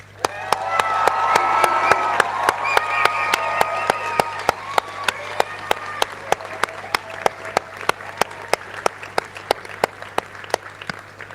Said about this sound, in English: Let's have a huge cheer and a round of applause for your loved ones.